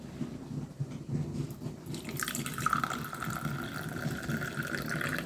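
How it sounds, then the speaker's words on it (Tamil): Water draining off soaked soya chunks in a kitchen, a steady trickling pour with light dripping that grows fuller partway through, close and fairly soft. "இப்போ பாருங்கள், இதை தண்ணியை லைட்டாக எடுத்துருவோம்."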